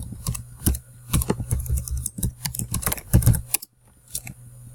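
Fingers type on a computer keyboard to log in, a close, quick run of clicky keystrokes in uneven bursts with a short pause before a few final taps.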